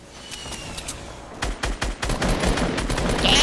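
Rapid shotgun blasts from a Spaz 12 in the Fortnite video game, several close, punchy shots in quick succession over a dense backdrop of game sounds and distant gunfire.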